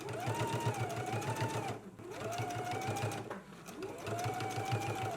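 A sewing machine basting a collar onto a jacket runs in steady stitching bursts, its motor rising and falling with a brief pause, close and fairly quiet with no talk.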